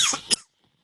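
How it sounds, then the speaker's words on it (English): A single short, sharp cough from a man, close and fairly loud, followed by a brief second catch in the throat and then near silence. "I'm going to cough again."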